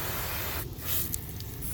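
A garden hose watering wand sprays water in a fine mist, a steady close hiss that runs throughout with a brief dip partway.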